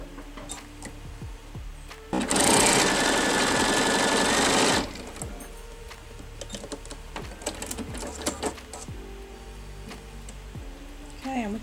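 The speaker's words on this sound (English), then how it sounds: "you can always just quickly sew two of them together" A sewing machine quickly stitches two quilt fabric pieces together in one loud, steady burst of about two and a half seconds. Softer handling clicks and rustles come before and after it.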